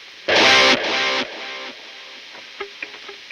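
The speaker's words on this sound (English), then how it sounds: "I've still retained the sound of the distortion in those repeats" Distorted electric guitar chords with a delay in the effects loop, loud sustained strums at first, then softer distorted repeats trailing off with a few light picked notes.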